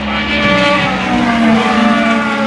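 Race cars at the Rolex 24 at Daytona, GTD class endurance racing, roar past loudly and continuously close to the infield, with steady engine drone and rising and falling pitch.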